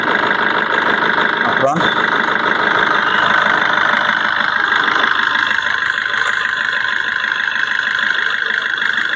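A steady engine idles with a constant hum and rattle, with a brief clunk near the start and faint background activity throughout.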